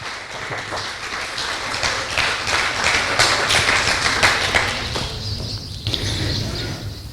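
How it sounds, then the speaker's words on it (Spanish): Inside a church service, a congregation breaks into sustained applause, a thick wash of many hands clapping at once that swells and then eases slightly near the end. "Denle un aplauso al Señor."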